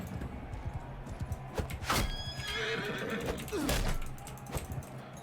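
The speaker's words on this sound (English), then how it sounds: "Straight back for the horse." A horse in a medieval video game whinnies loudly twice, close and sharp, between rapid hoof clatter and thudding game effects.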